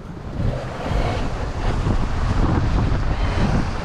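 Wind at about 15 knots gusts loudly across a sailboat under way on a cold day, with heavy buffeting rumble and water rushing along the hull.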